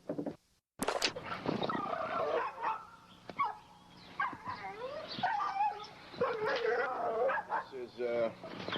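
Puppies yip and bark in short, high bursts in a yard, close by, while someone talks over them almost continuously.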